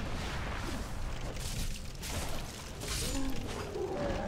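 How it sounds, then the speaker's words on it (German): A fire-spitting creature in Dark Souls blasts flames in a rumbling, roaring whoosh that swells and fades over a dense game soundscape, with no talking. "Und sowas, das Feuer spuckt."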